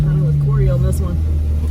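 Off-road vehicle engine throttling hard over an obstacle on an ORV trail, a loud low rumble with rising and falling revs, close up, with a voice speaking over it.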